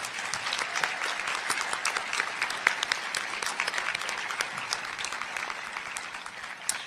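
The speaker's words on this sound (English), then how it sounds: "I'd like to ask the graduates to join me in a well-deserved round of applause for the loved ones" A graduation ceremony audience gives a sustained round of applause for the graduates' loved ones, dense and even, heard at a distance from the stage.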